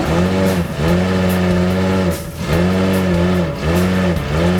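A car stuck in deep sand with its engine revving hard, repeated loud surges of rising and falling engine pitch in quick succession, close and continuous with no voices.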